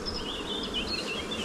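Honey bees fly around hives in a steady, close, continuous buzzing drone, with wingbeat tones weaving up and down and no voices.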